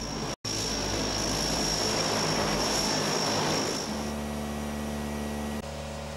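A Navy cargo plane in flight, its steady propeller-engine drone filling the cabin with dense broadband roar and low tonal hum, loud and continuous apart from a brief dropout near the start, the tone shifting slightly toward the end.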